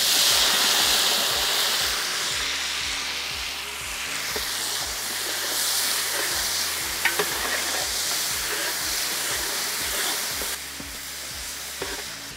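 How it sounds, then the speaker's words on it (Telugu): Onion paste frying in hot oil with green chilies and curry leaves for a chicken curry, a steady loud sizzle with repeated stirring scrapes throughout, no talking. "ఉల్లిపాయ పేస్ట్ ఏదైతే మనం యాడ్ చేసామో పచ్చిమిర్చితో పాటు కరివేపాకుతో పాటు చక్కగా వేగుతుంది."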